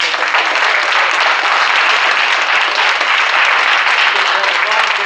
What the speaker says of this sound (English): I think we ought to give them a round of applause right now.